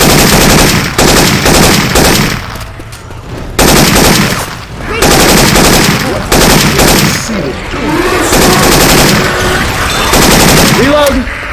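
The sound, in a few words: Syphon Filter weapon sound effects in Left 4 Dead 2, video game gunfire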